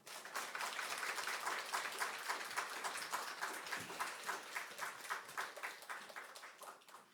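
A church congregation at a Wednesday evening service claps for a missionary serving in the Philippines, the steady, fairly faint applause continuing evenly throughout without talk.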